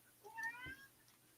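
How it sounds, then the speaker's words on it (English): A cat meows once, a short faint call heard close by in an otherwise quiet room. "Is that a live cat going on somewhere?"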